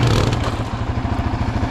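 A two-stroke dirt bike with a failing clutch runs loud and close, its engine chugging and clattering in a rough, uneven rhythm.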